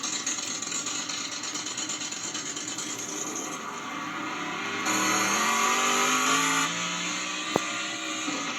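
Toyota Turbo truck engine in a video game revving and climbing a hill, a continuous loud synthetic engine drone that rises in pitch as it accelerates.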